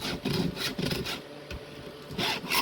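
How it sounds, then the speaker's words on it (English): Close, rhythmic scraping of a Stihl 2-in-1 file sharpening a chainsaw chain, several quick back-and-forth strokes in bursts with a short pause midway, moderately loud and without talk. "when you're doing the strokes, like it might sound like I'm filing going backwards, but I'm only putting pressure on the forward files"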